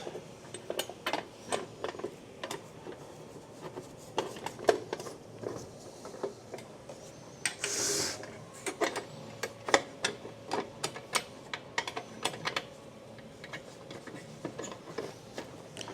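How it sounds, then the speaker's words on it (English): Eye bolts being fitted onto a TemboTusk Skottle windguard, a run of sharp metallic ticks and clinks in irregular bursts, close and fairly quiet, with one brief rustle midway and no talk. "Let's put in our last 2 eye bolts."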